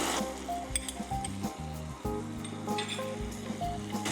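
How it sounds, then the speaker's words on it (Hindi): Ginger garlic paste sizzles on a hot tawa at an Indian street food stall making Mumbai masala pav, a steady frying hiss with metallic clinks of a spatula and bright pinging tones. "और इसी समय हम इसमें जिंजर गार्लिक पेस्ट भी डाल देते हैं"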